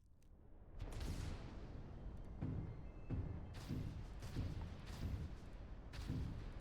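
Ballistic weapons firing in Starfield, a series of about half a dozen muffled booming shots spaced roughly half a second to a second apart over a low rumble, fairly faint and distant.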